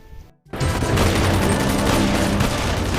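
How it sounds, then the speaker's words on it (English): Captain America toy gun firing a rapid, sustained burst of loud electronic gunfire sound effects, starting after a short pause and running continuously to the end, close to the microphone. "Captain America gun"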